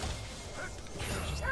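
A dog barks briefly a few times at moderate loudness, mixed with a noisy, busy background.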